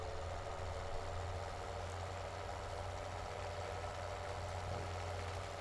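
Tractor engine idling in Farming Simulator 2017, a steady low droning hum with a constant throb, moderately loud and unbroken, with no voices.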